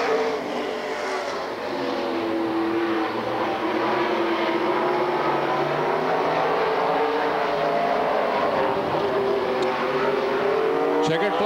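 Race cars roar around the Lakeport Speedway oval during a North State Challenge Series event, a continuous loud engine drone with pitch sweeps as cars pass, under a race announcer's commentary.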